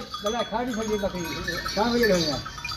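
Dairy goats at a farm bleating in two wavering, quavering calls, close and moderately loud, over a faint background murmur.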